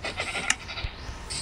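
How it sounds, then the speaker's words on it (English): A sheep bleating in the Minecraft video game, a few short nasal bleats in quick succession over a steady game backdrop, clear and close with no talking. "Sheep. Come here, sheep."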